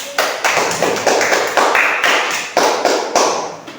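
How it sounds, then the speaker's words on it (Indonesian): Group applause from a class, with distinct loud hand claps in an uneven rhythm, close by and without talk. "mari kita berikan tepuk tangan untuk"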